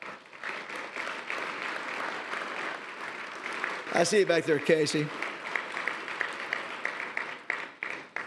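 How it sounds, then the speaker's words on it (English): An audience at the Broyles Award banquet applauds. The clapping swells under a voice on the microphone, with a brief burst of cheering partway through. "Let's give him a round of applause."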